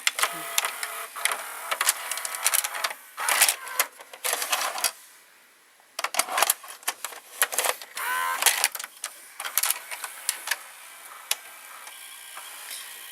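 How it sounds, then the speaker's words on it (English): A Samsung VT4840C or Sony SLV 779HF VCR runs its eject mechanism, a long train of busy mechanical clicks, ticks and whirring clatter close up, with one brief pause before the rattling resumes and continues to the end. "So now I'm gonna press eject."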